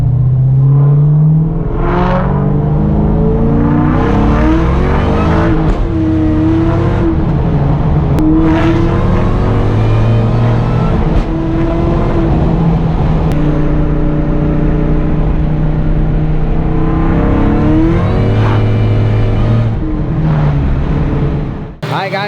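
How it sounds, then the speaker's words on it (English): A Terminator Cobra engine is pushed hard under stress to check for overheating, revving up and down repeatedly with loud, rising and falling engine tones close by, broken by brief lifts between pulls, over a sustained roar. "I'm beating up the car on purpose, but I need to really put some stress on the motor"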